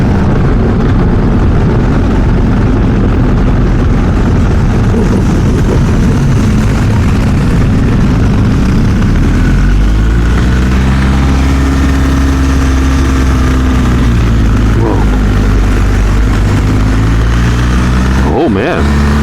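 A BMW GS motorcycle ridden at speed, loud wind and engine roar that settles into a droning rev with audible gear changes and pitch shifts, heard from the rider's position.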